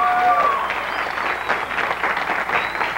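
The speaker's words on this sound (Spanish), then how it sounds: "aplausos fuertes para ellos, vamos, con ganas" Studio audience applauding during a 1998 Peruvian variety show, a steady broadband wash of clapping over a few seconds, with brief tonal squeals from stage equipment near the start and crowd noise mixed in.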